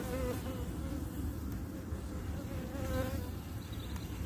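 Honeybees drone in a dense, continuous buzz around an opened hive after winter, a close, steady hum with no pauses.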